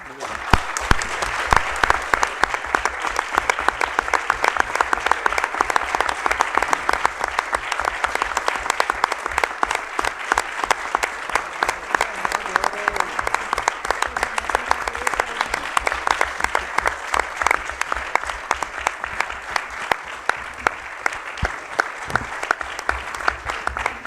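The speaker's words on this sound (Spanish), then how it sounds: "se merece un aplauso" Long, sustained applause fills a university faculty farewell ceremony honoring the dean, a dense wall of clapping from a large audience that continues steadily for over twenty seconds with no pause.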